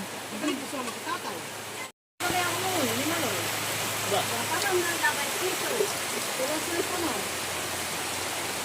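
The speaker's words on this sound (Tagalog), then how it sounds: "Yan po to na ulan." Heavy, steady rain pours down around a hut as a broad, even hiss, with voices speaking underneath and a brief cut to silence early on.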